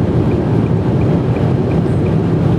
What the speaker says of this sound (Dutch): dan hoor je echt behoorlijk duidelijk de windruis